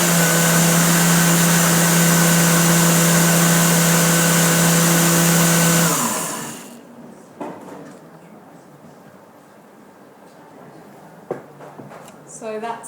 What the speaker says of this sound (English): And blend that through.